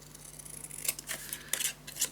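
Scissors snipping through paper while trimming a piece for a scrapbook mini album, a few short crisp cuts close by over a faint steady hum, with no talking.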